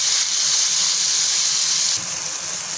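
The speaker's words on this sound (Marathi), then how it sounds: "कांद्याला छान सोनेरी रंग आलेला आहे त्याच्यामध्ये आपण टोमॅटो टाकून घेऊयात" Chopped tomatoes hit golden fried onions in a hot pan for a Marathi fenugreek (methi) vegetable dish, giving a loud, steady sizzling hiss. The sizzle eases slightly about two seconds in.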